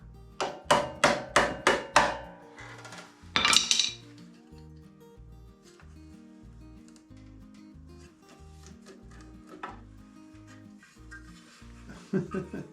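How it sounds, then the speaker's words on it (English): A small metal chisel is tapped against the valve cover of a Husqvarna YTH21K42 riding mower engine to break its seal. Five sharp, close taps come in quick succession, then a denser scraping burst, over a low steady background hum. "So we have a little chisel here. We're going to try and break the seal that way."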